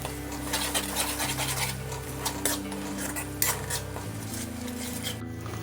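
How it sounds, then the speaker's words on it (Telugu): Ginger garlic paste frying in a pan for a tomato drumstick curry, a spoon scraping and clinking against the metal in irregular strokes over a faint sizzle. "అల్లం వెల్లుల్లి పేస్ట్ కూడా పచ్చి వాసన పోయేంత వరకు ఫ్రై చేసుకుందామండి"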